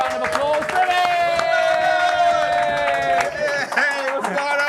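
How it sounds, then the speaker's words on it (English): A live crowd at an Arsenal pre-match show before the cup tie with Brighton & Hove Albion claps and cheers loudly, with busy crowd noise and a presenter talking over it and music playing underneath. "So please give them a round of applause."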